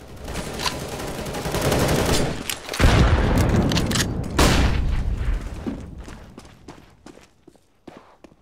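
A grenade bursts during a Counter-Strike: Global Offensive match on Dust 2, giving two heavy, booming blasts amid rapid gunfire and footsteps that thin out into sparse shots and clicks.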